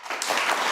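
A burst of audience applause rises quickly and holds steady at a televised UK party leaders' debate, a dense wash of many hands clapping at once.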